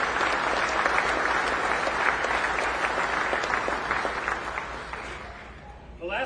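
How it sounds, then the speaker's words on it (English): Steady audience applause fills a tractor pulling selection ceremony hall, dense clapping holding strong before thinning toward the end, with some voices mixed in. "Let's give them all a big round of applause."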